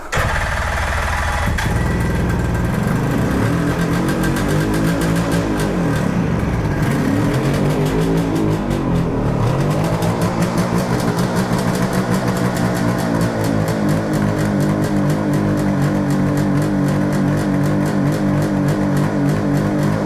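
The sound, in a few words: Suzuki GT 750 motorcycle engine starting and running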